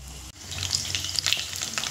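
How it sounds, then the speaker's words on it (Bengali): Raw-batter mini pakoras fry in a kadai of oil over a medium flame, a close, continuous bubbling sizzle with scattered crackles and spits. "ভাজবো কিন্তু মিডিয়াম ফ্লেমে, কেননা সব উপকরণ কিন্তু কাঁচা দেওয়া আছে"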